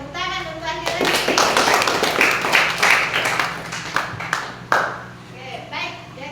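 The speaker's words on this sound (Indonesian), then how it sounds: "tepuk tangan untuk Andi Resti." Students in a classroom clap for a classmate, a burst of dense hand clapping that builds quickly, holds for a few seconds, then thins to scattered claps, with some voices mixed in.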